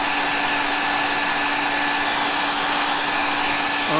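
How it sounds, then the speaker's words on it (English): A hair dryer on its high heat setting blows steadily with a constant whirring hum and airy rush, close and loud, with a slight pitch shift at the very end. "Not an airbrush, a hair dryer."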